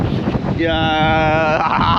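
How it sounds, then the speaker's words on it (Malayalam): Strong wind buffets the front of a boat out at sea, a steady roaring rush across the whole clip, with a clear tonal harmonic whistle rising in the middle; the wind is loud and close, dominating throughout. "നല്ല കാറ്റാണ് ഗായ്സ് ഏറ്റവും ഫ്രണ്ടിൽ നല്ല കാറ്റുണ്ട്"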